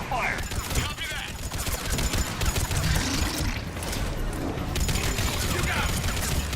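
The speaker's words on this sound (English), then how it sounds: "Give us some cover fire!" Sustained bursts of rapid gunfire rattle through a firefight in the video game Mass Effect 3, loud and continuous with shouting voices mixed in.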